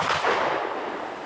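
A single gunshot rings out at a public shooting range: one sharp crack that decays into a short echoing tail, with no other sounds.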